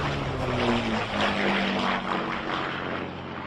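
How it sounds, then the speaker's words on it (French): Observation propeller aircraft flying overhead, a steady droning engine hum with a drifting pitch, loud and continuous throughout with no talk. "des avions d'observation poursuivent les recherches depuis le ciel"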